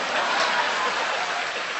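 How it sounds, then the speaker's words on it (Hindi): Dense, steady applause from a comedy show audience at an Om Vyas performance, a continuous wash of many hands clapping at moderate level with no talk over it. "इधर से तालियां कम बज रही हैं, इधर का मामला ठीक है"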